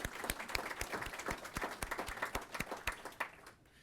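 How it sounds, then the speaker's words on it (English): An audience applauds at a business school event honoring the Terry College, a dense wash of many hands clapping steadily throughout, fairly close and full, trailing off near the end. "So let's give the Terry College a round of applause for that."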